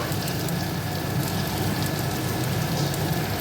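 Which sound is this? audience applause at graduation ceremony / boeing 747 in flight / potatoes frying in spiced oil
potatoes frying in spiced oil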